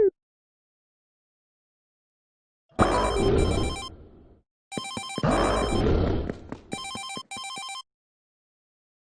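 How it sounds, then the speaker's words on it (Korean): A telephone in the Guardian Tales game rings unanswered, with repeated bursts of an electronic ringtone separated by short silences, loud and close. "로레인에게 전화를 걸어보지만 로레인은 받지 않습니다."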